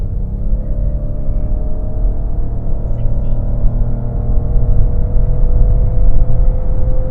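A 2021 Lexus RX 450hL hybrid SUV in sport mode accelerates hard from a standstill, its engine and drivetrain droning as a steady, loud rising whir heard from inside the cabin.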